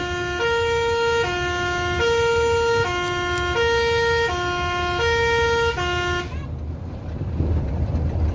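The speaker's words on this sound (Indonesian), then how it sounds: "Ambulan lalu." A loud two-tone ambulance siren alternates steadily for several seconds, then cuts off abruptly, leaving low traffic rumble behind.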